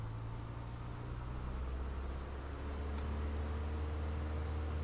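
A Piper PA-38 Tomahawk in a flight simulator rolls for takeoff, its engine a steady low drone with a faint broadband rush that swells slightly as the roll continues.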